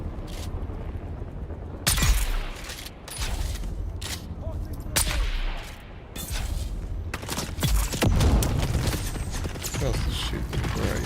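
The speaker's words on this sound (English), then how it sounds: "Who else is shooting?" Gunfire in Dune Awakening, sharp shot bursts and mechanical clanks scattered through the stretch, fairly close, with a voice talking among them.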